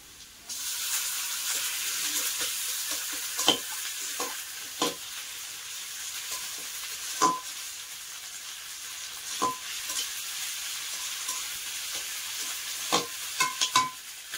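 Panch phoron spices and ginger paste fry in oil for a bottle gourd dish, producing a continuous gentle sizzle broken by several sharp stirring knocks against the pan.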